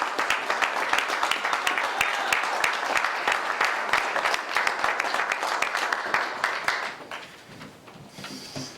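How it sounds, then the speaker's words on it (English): Loud, dense audience applause welcoming a speaker to the stage at a religious gathering, sustained clapping from a large crowd that gradually thins and fades near the end. "Let's bring up our brother Rashad Muhammad with a great round of applause."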